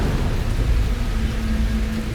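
Rain and a thunderstorm in a mythological drama scene: a steady, dense roar of rainfall with low rumbling underneath, continuous and fairly loud throughout, with no talking.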